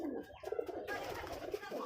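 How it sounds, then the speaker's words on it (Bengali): Giribaz pigeons coo softly in a loft, a low, rolling murmur with faint rustling and background noise. "এখানে অনেক হাই ফ্লাওয়ার কবুতর আছে"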